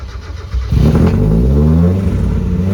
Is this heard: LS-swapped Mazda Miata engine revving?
yes